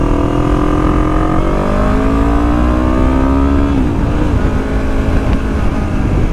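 A Yamaha YZF R3 300cc motorcycle revs loudly and climbs in pitch as it accelerates, dropping sharply partway through at a gear shift before pulling again, the engine noise close and continuous throughout.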